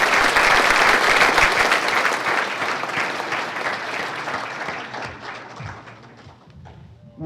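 A banquet audience at a 25th anniversary welcome event applauds the committee chairman, loud sustained clapping from a large crowd that gradually tapers and fades out.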